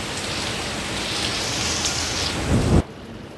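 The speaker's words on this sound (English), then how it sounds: "It's pouring down, guys." A thunderstorm drenches Kingston, Jamaica, with a loud, steady roar of heavy rain and a low rumble of thunder building toward the end before the sound cuts off abruptly.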